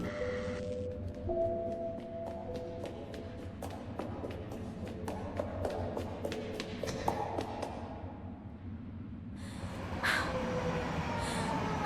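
A subway train runs in a horror video game set in a metro station, its rumble and rhythmic clacks rolling steadily, then thinning out before a brighter burst of sound near the end.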